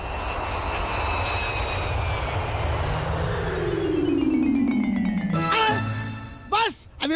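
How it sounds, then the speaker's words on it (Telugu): A fixed-wing airplane passes overhead in a comedy film scene, a loud sustained engine roar with a descending pitch as it sweeps by, then brief voices and shouts near the end. "ఆ విమానం చూడండి"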